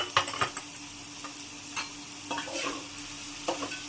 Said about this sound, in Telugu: బాగా పచ్చిమిర్చి, ఉల్లిగడ్డ రెండు బాగా బ్రౌన్ కలర్ వచ్చే వరకు పచ్చిమిర్చి బాగా కాలాలి.